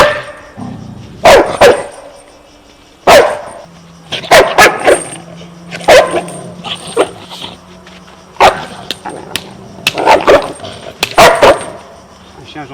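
Misty, a shelter dog, barks in sharp aggressive bursts, several loud close barks spread irregularly with brief gaps, mixed with some whimpering and people talking nearby.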